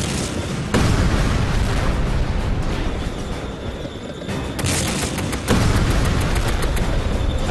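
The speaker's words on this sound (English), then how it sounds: "The lead German tank opens fire with its main gun." A German tank's main gun fires during a WWI armoured battle, with loud booming blasts and heavy rumbling. Two abrupt surges in the blasts cut through a dense, continuous roar of battle noise, close and overpowering, with no talking.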